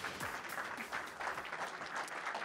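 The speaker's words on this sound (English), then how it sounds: "please give them one more round of applause" A crowd at a GLORY Grand Prix kickboxing weigh-in gives the fighters on stage a steady round of applause, heard somewhat distant and uniform throughout.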